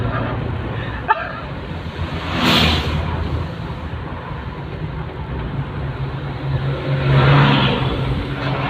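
A car on a winding mountain road rumbles steadily, with two louder passing whooshes as traffic goes by. Voices can be heard faintly in the background.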